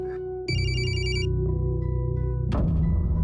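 A phone ringtone starts abruptly and plays a bright, repeating electronic melody over steady background hum, then gives way to a louder, busier noise.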